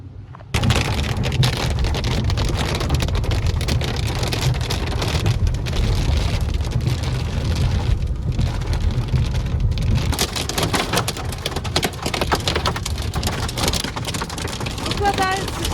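Heavy rain and hail pound a tent at a campsite in Germany's Eifel National Park during a thunderstorm, a loud, dense, unbroken downpour with rattling impacts throughout.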